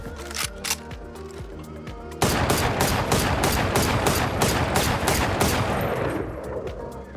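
Rifle gunfire in the video game Valorant, rapid automatic bursts of sharp shots, then a longer sustained spray of evenly spaced rounds, loud and close.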